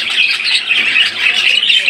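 Budgerigars in a bird shop, including a pair of creamino-coloured birds, squawk and chirp in a dense, continuous chorus close by.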